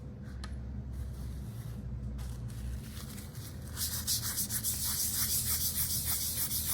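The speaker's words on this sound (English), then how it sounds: "I like to rub in circles" A charcoal stick rubs over drawing paper in circles to lay down even shading. The soft, dry scraping is close and steady at first, then turns louder and rhythmic, with repeated circular strokes in the second half.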